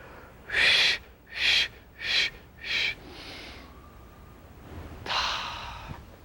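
Four sharp, forceful breaths come in quick, even succession during a stretching breathing exercise, followed by a softer exhale and one more strong breath, close and alone with no talk.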